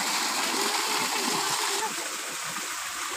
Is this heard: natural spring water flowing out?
yes